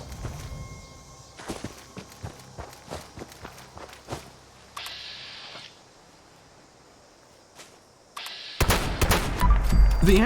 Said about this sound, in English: The action on double barrel shotguns in Fallout 76 is pretty darn good for game mechanics.